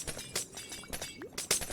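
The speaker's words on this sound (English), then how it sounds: "Nobody enjoys the smashing of glass." Glass blocks breaking in Minecraft Bedrock Edition, a rapid series of bright, crunchy shattering bursts repeating irregularly, with one louder smash near the end, no talking.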